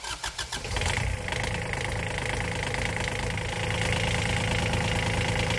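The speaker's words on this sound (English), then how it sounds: "let me start the engine so we can see if this gizmo works" A supercharged Kubota diesel engine in a Honda Insight cranks with a few rapid chugs, then catches and settles into a steady, loud idle that rises slightly toward the end.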